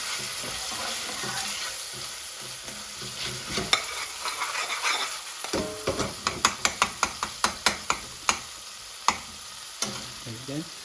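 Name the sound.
spices frying and catching in the pan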